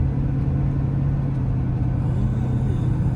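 A van drives along with a steady low engine rumble and road noise; the drone holds fairly evenly throughout as it changes gears, loud and close without speech.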